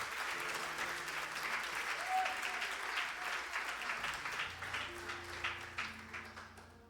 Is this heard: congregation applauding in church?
yes